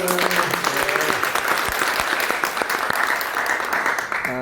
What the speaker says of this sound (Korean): 자, 우리 하나님께 영광의 박수 올려드립니다.